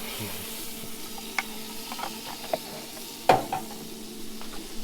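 Thick pancake batter sizzling in a hot frying pan, a soft steady frying hiss with a few faint clinks of utensils and pan, fairly quiet and with no talking.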